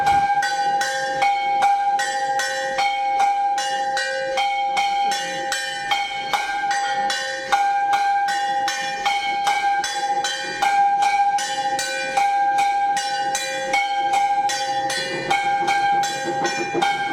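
Temple bells at the Brahmdev temple on the India–Nepal border ring continuously in a steady, rhythmic clanging, with bright sustained metallic tones overlapping throughout and no talking.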